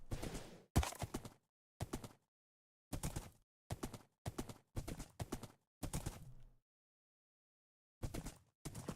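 A horse's hooves in Minecraft clop in irregular clusters of sharp, close steps, pausing briefly before resuming.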